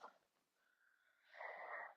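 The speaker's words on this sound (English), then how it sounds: "Listen for the sound of your soothing ocean breath," Ujjayi ocean breathing during a gentle yoga session: a soft, close breath with a hissing, throat-constricted rasp, one faint exhale followed by a louder, fuller breath.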